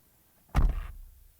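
A short mechanical whir and thud as the electronically actuated door of a Fisker Karma opens, heard once, close and alone over a quiet background.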